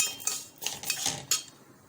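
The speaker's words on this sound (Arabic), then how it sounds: "هحمر لسان العصفور حلو قوي" A spoon scraping and clinking against a pot as orzo pasta is stirred while frying, with several short irregular metallic taps and scrapes at close range; no speech.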